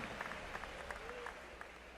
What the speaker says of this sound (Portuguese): Palmas com glória a Deus, palmas com aleluia.